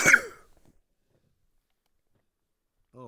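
A single sharp, close sneeze bursts out at the very start and fades quickly, followed by near silence and a brief voice at the end.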